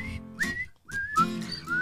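A person whistles a short melodic tune, clear, close and alone, with a brief pause partway through before resuming in rising and sliding notes.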